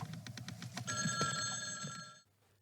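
An old-style telephone bell rings in a TV episode excerpt, fairly close. Rapid repeated bell strikes build into a sustained ring, then it cuts off abruptly.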